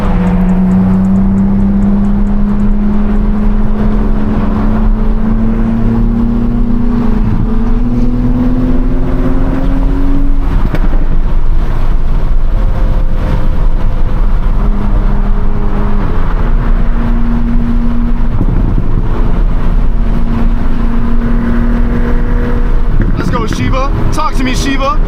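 Toyota Supra cars idle and pull away at night with a loud, steady engine drone that rises in pitch as they accelerate. People talk over the sound.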